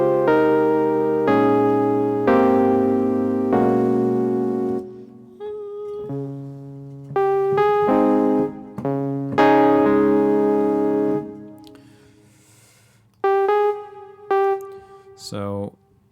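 A draft chord progression played on a synth in Studio One for a house track. Sustained dense chords change in steady blocks with short gaps between them, loud and clean with no talking.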